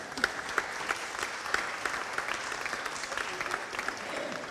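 Applause from a conference audience for a panel at an international forum of marine universities, a quiet, steady patter of many hands with sharper individual claps standing out, no voices.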